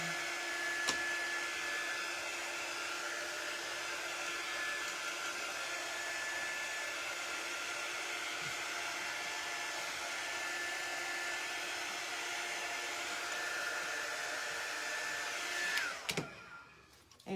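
A hair dryer blowing steadily to dry glue on a craft project, a constant close whooshing whine held for the whole stretch before switching off near the end.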